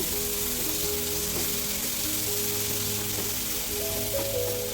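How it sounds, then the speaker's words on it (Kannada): Coriander leaves frying with turmeric in a pan for vermicelli upma, giving a steady, moderately loud sizzle throughout with no talking. "ಸ್ವಲ್ಪ ಕೊತ್ತಂಬರಿ ಸೊಪ್ಪನ್ನು ಹಾಕ್ತಾ ಇದ್ದೀನಿ ಹಾಕಿ ಚೆನ್ನಾಗಿ ಫ್ರೈ ಮಾಡ್ಕೊಳ್ಳೋಣ"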